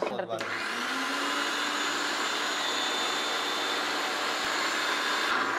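An electric kitchen beater whisks about fifteen broken eggs for omelettes, a loud steady high-pitched motor whir that runs continuously after a brief start.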